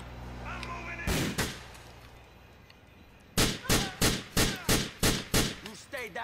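Pistol shots ring out in Grand Theft Auto IV during a fight with a biker gang, with a pair of loud cracks followed after a pause by a rapid, evenly spaced string of about eight sharp shots.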